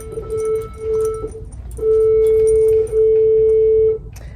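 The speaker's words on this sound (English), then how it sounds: "that sound is the bell." A school bell in a kindergarten classroom rings in four steady tonal bursts, two short and two longer, loud and clear over a quiet room.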